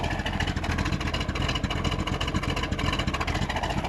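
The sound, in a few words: 1970 Corvette Stingray engine idling with cam exhaust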